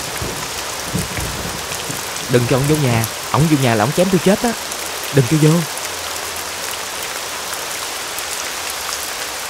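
Rain pours steadily in a constant loud hiss, and a few short bursts of voices talk over it in the middle.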